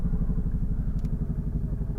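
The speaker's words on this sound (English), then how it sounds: "Excuse the helicopter for 3 seconds." A helicopter flies overhead with a rapid, steady low thumping from its rotor. The sound is continuous and fairly loud for about two seconds, with no speech.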